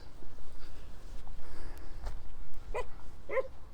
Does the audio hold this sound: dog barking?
yes